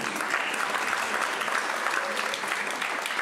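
Steady applause from an awards ceremony crowd fills the whole stretch, a dense continuous patter of many hands clapping at moderate loudness.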